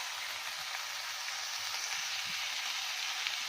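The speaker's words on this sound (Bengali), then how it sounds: "খুব সুন্দর করে কষে নিতে হবে" Chicken curry with turmeric, coriander, cumin and garam masala sautés in a hot pan, giving a steady, close frying sizzle that holds evenly with no talking.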